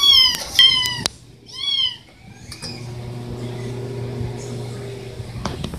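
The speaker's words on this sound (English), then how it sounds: "Great, now you're meowing." A cat meows several times close by in a short burst of high, wavering cries, followed by a steady low appliance hum.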